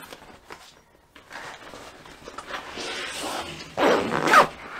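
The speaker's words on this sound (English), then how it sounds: "Do the zip up," A zipper on a pocket of a Helikon Tex bushcraft haversack bag is worked with a few short rasps and rustles, ending in a louder, drawn-out zip close by.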